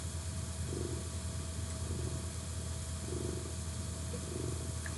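House cat purring steadily up close, with a low continuous rumble that swells in a slow rhythmic pattern of breaths, heard alone without talk.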